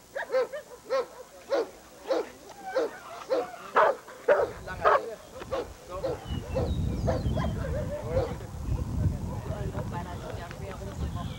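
A police or protection dog in bite-work training barks repeatedly in loud, rhythmic bursts, then shifts to scuffling and growling struggle noise as a handler calls commands in German.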